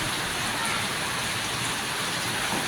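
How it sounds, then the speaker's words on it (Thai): Steady rain pours down at an elephant village, a dense continuous hiss of drops on surfaces filling the scene at moderate loudness, with no voices over it. "ฝนตกฝนตกเนาะพี่น้องฝนตกฝนตก"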